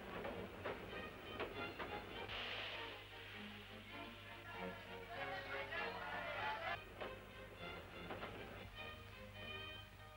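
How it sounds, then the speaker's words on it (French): A train rolls toward Germany, its wheels clattering rhythmically over the rails with hissing and rumbling carriage noise, steady and fairly close. "Le train roule vers l'Allemagne."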